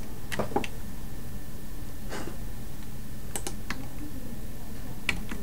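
Scattered keystrokes on a computer keyboard while writing Roblox Lua script, a few quick clicks in small bursts over a steady room hum.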